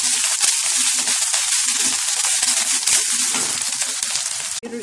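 Mustard seeds, green chilies, ginger and curry leaves frying in hot oil for a radish and beans stir fry, a steady close sizzle with scattered pops and crackles throughout.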